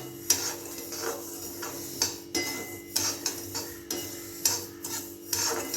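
Semolina for rava upma is roasted in a pan, a spoon scraping and clinking against the metal in regular stirring strokes, close and fairly quiet.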